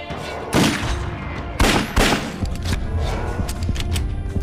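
Gunshots in the 2008 Alone in the Dark game: three sharp, loud shots at irregular intervals, followed by a few lighter cracks under a steady, rumbling ambient background.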